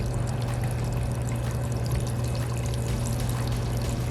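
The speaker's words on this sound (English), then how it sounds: "water's running just a little bit too fast, which will wash away your gold right down to the bottom" Water runs steadily through a gold paydirt sluice, a constant close pouring rush with a low hum underneath that never lets up.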